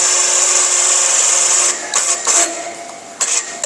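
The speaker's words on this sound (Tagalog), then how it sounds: "Okay, so electric winch." Electric winch on a 300cc 4x4 semi-automatic ATV reeling steadily with a loud, continuous motor whine, then breaking into a few short bursts before stopping.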